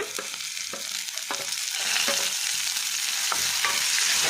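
Onion and tomato fry with spices such as a piece of cinnamon for an egg green masala, a steady close sizzle broken by repeated scraping stirs in the pan, with no talk.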